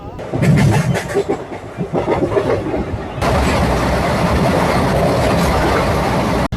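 A 58506 fast passenger train runs at speed past Simhachalam toward Pendurthi, a loud, steady roar of wheels and carriage rumble with rhythmic clatter, growing denser and more continuous midway, with faint voices at times.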